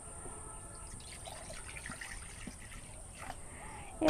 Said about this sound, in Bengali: কড়াই দিয়ে দেবো পানি